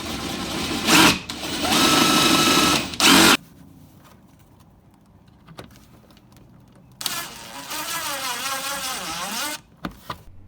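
A power tool whirs in several close bursts, each lasting a second or two with pauses between, while it drives screws into a front lip spoiler on a 2015+ Subaru WRX STI bumper; a longer final run rises and falls in pitch.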